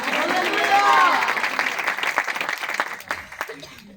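A church congregation claps at a worship service in a thick, continuous patter that fades slightly toward the end. Voices and a brief sung or shouted tone rise over the applause.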